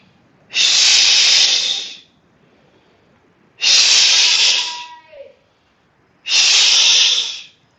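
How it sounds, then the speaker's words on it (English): Three slow, loud breaths of a yoga healing breath, each a long hissing rush through the nose or mouth lasting over a second, separated by quiet pauses, close to the microphone. "this breath pattern is a healing breath"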